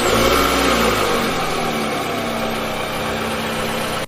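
A car engine revs and pulls away, loud and close at first, then settling into a steady mid-pitched drone as the vehicle drives off, with no voices heard.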